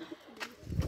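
Pigeons kept loose outdoors give a brief, faint, low coo that swells near the end of a short, quiet moment.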